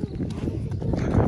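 A pony on a ranch walks with a steady clip-clop of hooves over rising ambient noise, close by, while people talk in the background.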